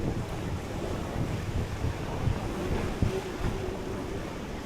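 Steady wind at Manly Beach in Australia on a sunny summer day, a continuous broadband rush with faint surf beneath it and slight gusty swells, with no talk.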